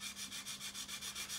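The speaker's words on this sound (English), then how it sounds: "you come along with your sanding sticks" Sanding sticks rub back and forth over super glue seams on an Eduard B-24 plastic scale model, a soft rhythmic scratching of about eight even strokes, close and quiet with no voices.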